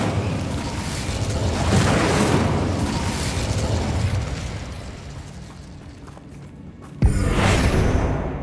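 A fire spell cast in the video game Hogwarts Legacy, heard as a sustained roaring, crackling burst over a low rumble that thins out, followed by a sharp sudden pop and a fresh loud whoosh of flame near the end.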